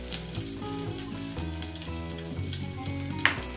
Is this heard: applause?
no